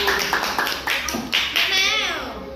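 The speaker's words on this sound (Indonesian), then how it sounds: "Oke, tepuk tangan dulu untuk kedua teman kita yang sudah berani maju." Elementary school children clap together in a classroom, a quick burst of applause up close, with children's voices chattering over it.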